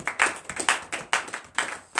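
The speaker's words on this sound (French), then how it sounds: "Donnez l'acclamation à Jésus." A church congregation at morning prayer claps hands in bursts, about five loud rhythmic clusters of claps over two seconds, with no talking.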